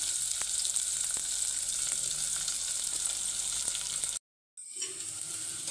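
Onions and chili fry in a pan for prawn pulao, a steady close hiss of sizzling oil with faint occasional stirring taps, cut by a brief moment of silence before the frying resumes.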